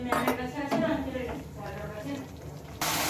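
Coriander paste masala cooking down in a pan for rohu fish kalia, with metal utensil clinks and scraping early on, a light sizzle underneath, and a burst of hiss at the end.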